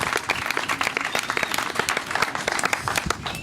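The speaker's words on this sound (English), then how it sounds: "Give them a round of applause, everybody." A crowd at a live event gives a round of applause, many hands clapping briskly and loudly at close range. The clapping is steady and sustained, with a few scattered voices faintly under it.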